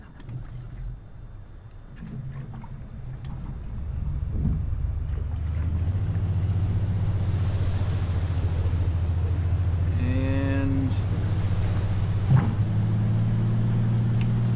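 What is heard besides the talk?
De Havilland DHC-2 Beaver floatplane engine starting, Flight Simulator video game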